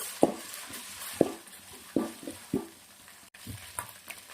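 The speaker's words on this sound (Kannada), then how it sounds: "ಸ್ವಲ್ಪ ಹಸಿ ವಾಸನೆ ಹೋಗುವವರೆಗೂ ಫ್ರೈ ಮಾಡ್ಕೊಳ್ಳೋಣ" Ginger-garlic paste with curry leaves fries in a pan under a low, steady sizzle, broken by several sharp spoon scrapes and knocks at irregular intervals.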